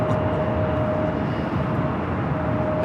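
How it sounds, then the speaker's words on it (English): A British Airways Boeing 777-300ER takes off from the south side at LAX, heard as a steady, loud broadband jet roar with a constant tonal whine that holds throughout. "At Speedbird, 777 to 300ER, flight 280, heading back to London Heathrow, taking off there on the south side"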